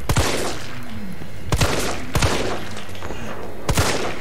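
Rapid gunfire in the Resident Evil 3 demo, several loud sharp shots spaced unevenly over a few seconds with a continuous game soundtrack underneath.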